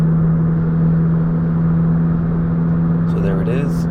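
A car drives along with steady engine hum and road noise, played back from a Lungdu LD02 dashcam recording in a Mitsubishi; a brief higher whir and rattle come in near the end.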